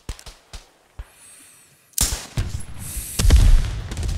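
A rifle grenade is fired in the video game Beyond The Wire: a few sharp gunshot cracks, a brief hiss, then a loud launch boom followed by rumbling blasts, with no talk.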